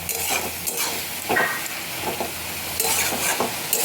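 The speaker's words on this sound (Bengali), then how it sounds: "এই জলটা শুকানো পর্যন্ত সবজিটা আমি ভাজবো" Chopped vegetables for a veg momo filling fry and sizzle in a pan while being stirred, with intermittent scraping strokes of a spatula over a steady hiss as the released water cooks off.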